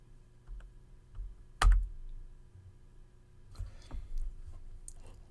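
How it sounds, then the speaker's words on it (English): Typing on a computer keyboard while drafting in CAD software: a quiet scatter of key clicks, one sharper louder tap near the middle, then a busier burst of keystrokes toward the end over faint room hum. "we type fillet"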